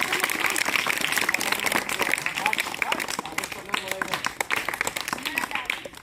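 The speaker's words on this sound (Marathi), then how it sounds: "टाळी एकदा जोरात" Schoolchildren in a primary school classroom clap loudly together, a dense burst of sharp hand claps filling the room, with children's voices and chatter mixed underneath.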